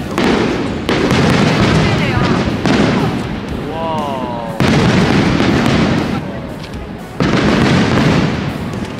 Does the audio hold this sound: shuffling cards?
no